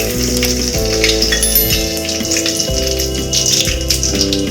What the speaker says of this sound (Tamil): எண்ணெய் காஞ்சிருச்சு. இப்போ சீரகம் போட்டுக்கலாம்.